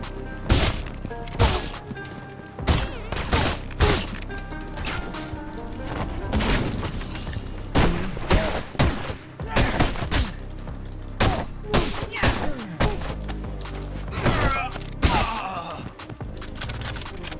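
Repeated gunfire in a John Wick-style shooter game, loud sharp shots fired in irregular bursts and single cracks with heavy thuds and impacts, continuing densely throughout.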